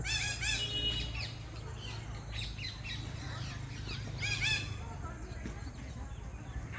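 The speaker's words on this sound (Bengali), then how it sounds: "কত রকম পাখির আওয়াজ শুনতেই পাচ্ছ" Assorted birds at a large botanical garden from 1787, home of the Great Banyan Tree; several squawking, chirping calls come in bursts over a steady low background hum.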